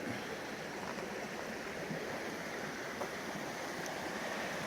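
Steady rushing of a creek flowing in the wilderness, a continuous broad wash of water with no breaks, close and even in level, with no voices.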